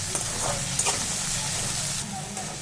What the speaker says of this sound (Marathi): टोमॅटो पण छान फ्राय करून घ्यायचा म्हणजे तेलामध्ये